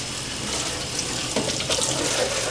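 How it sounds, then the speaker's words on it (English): Tap water runs steadily in a close, loud hiss while a painted RC car body is rinsed under it, with faint shifts and splashes as the shell is moved in the stream. "make sure you rinse it really good"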